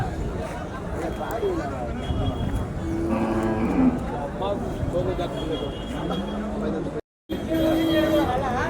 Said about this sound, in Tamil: நல்ல சைஸான மாடுங்க. கிராஸு, நாட்டு கிராஸு.